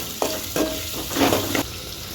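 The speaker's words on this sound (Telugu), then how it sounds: "ఉల్లిగడ్డ ముక్కలు వేసుకోవాలి. పచ్చిమిరపకాయ ముక్కలు వేసుకోవాలి. కలుపుకోవాలి." Onion and green chili pieces stirred in a frying pan, three distinct scraping stir strokes over a steady close sizzle, no voices.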